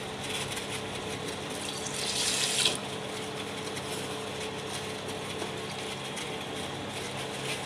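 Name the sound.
water poured into pot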